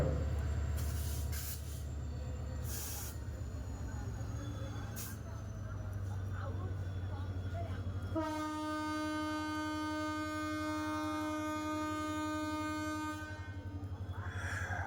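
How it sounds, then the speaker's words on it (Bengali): A fast passenger train pulls out of a junction station, a low steady engine rumble joined midway by a sustained tonal hum and whine from the locomotive as it moves off, with someone talking over it. "দেখুন ছেড়ে দিল ট্রেনটি ছেড়ে দিল ইঞ্জিন আস্তে আস্তে ট্রেনটিকে টেনে নিয়ে যাচ্ছে সামনের দিকে"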